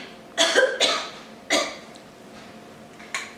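A person coughs several times in separate bursts, close and fairly loud, with short quiet gaps between them.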